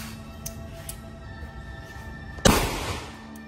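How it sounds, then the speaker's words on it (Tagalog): One sharp, close gunshot, fired to test an amulet belt, cracks out after a quiet stretch and rings off into a fading tail. "Putukan mo muna ng isa."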